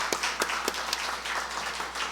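A church congregation claps in thanks during a Sunday service, a few distinct, fairly quiet hand claps spaced unevenly over a soft room background.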